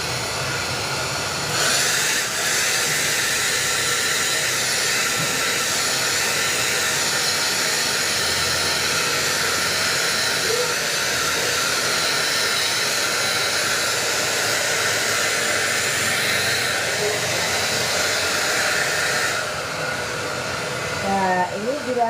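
A hair dryer blows steadily and loudly for the full stretch, drying the inside layers and roots of someone's hair, with a continuous broadband whoosh that shifts slightly in tone as it is moved around.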